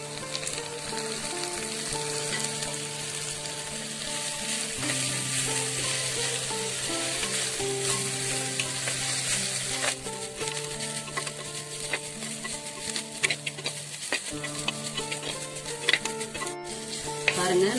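Chopped mookirattai greens sautéing in a pan for a drumstick gravy, with a steady close sizzle and repeated stirring scrapes running the whole time, no talking.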